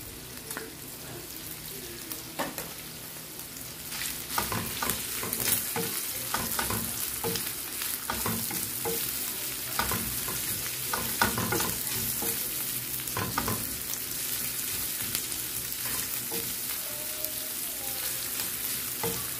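Onion and garlic frying in a pan for a simple Filipino sayote dish: a steady, close sizzle runs throughout with repeated scraping and stirring knocks of a utensil, at even loudness with no voices.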